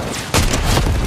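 Gunfire in a first-person shooter video game during a duos match, a sudden loud blast cutting in after a quiet start and ringing on with further booming reports to the end.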